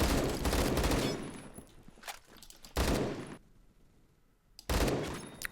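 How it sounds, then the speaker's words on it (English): Short bursts of AK12 gunfire in the Roblox shooter Phantom Forces, three loud rapid clusters with quieter gaps and distant shots between them, no talking. "burst this thing, it can shoot pretty fast though"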